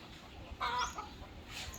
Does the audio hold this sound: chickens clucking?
yes